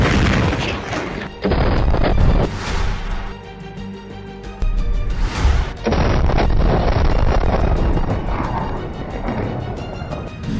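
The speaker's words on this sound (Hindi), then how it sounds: "जैसे ही एक रॉकेट टैंक पर लगता है उसमें जोरदार धमाका होता है" A rocket strikes an Israeli Merkava tank in combat, setting off a loud, close explosion. Heavy booming blasts and crashing bursts follow, with rumbling debris and sustained roar between the impacts.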